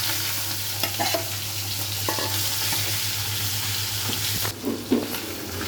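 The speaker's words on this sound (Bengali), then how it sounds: "মাথাগুলো ভেজে নিব। দিয়ে দিলাম মেথি দানা। এবার মাথাগুলো দিয়ে দিচ্ছি।" Hilsa fish heads fry in hot oil with fenugreek seeds, a loud, continuous sizzle up close, broken by a few scraping stirs and clatters near the end, with no talking.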